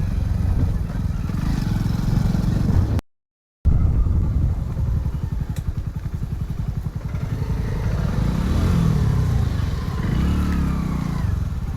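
Motorbike riding along a rough forest road, a steady close engine drone with rumble and clatter running throughout, broken by one brief dropout, with a pulsing stretch in the middle and rising revs near the end.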